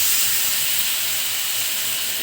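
Grated mango hits a hot pan of garlic cloves and sizzles loudly, a steady, close hiss that holds without a break for about two seconds, with no talking.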